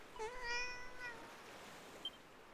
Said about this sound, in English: you can pet the cat